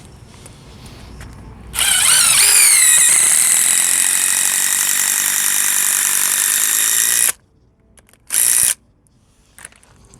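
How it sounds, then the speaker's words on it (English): An impact drill drives a lag bolt into the ground at a Burning Man camp, a loud sustained whirring hammer-rattle of about five seconds that rises in pitch as it starts, followed by one short burst after a pause. "And we just impact drill it into the ground."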